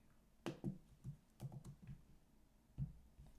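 Keys clack on a computer keyboard in short, irregular bursts of taps, close and fairly quiet, with brief pauses between keystrokes and no speech.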